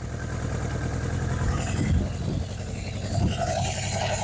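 A Suzuki GS750 motorcycle engine idles close by, a steady low rumble with slight surges in revs.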